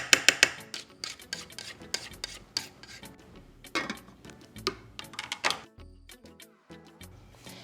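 Utensil scraping and clinking against a skillet while melted butter is given a quick stir, a run of close, irregular rasps and taps with brief pauses between strokes.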